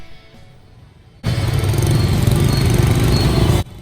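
A motorcycle engine on the streets of Hanoi bursts in suddenly, loud and close, after a quieter stretch of background noise, holding a steady roaring drone for a couple of seconds before cutting off abruptly.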